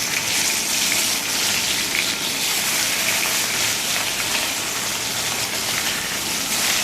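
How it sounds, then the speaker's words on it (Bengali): Pieces of fish fry in hot oil in a pan, with a steady, dense sizzle and crackle that carries on without a break. The sound is close and loud and has no talk over it. "তো এবার সমস্ত মাছগুলো আমার ভাজা হয়ে গেল।"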